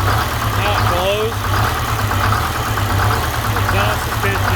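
An old vehicle engine idles with a smoking, choked exhaust after sitting over thirty years, giving a steady low rumble throughout, loud and close, while people talk over it.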